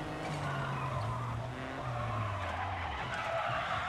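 A Ford Fiesta ST drifting through a rally stage in WRC Generations, its tires squealing in long, wavering skids over a steady engine roar, with no voices.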